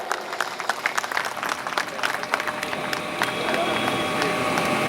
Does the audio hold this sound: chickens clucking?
no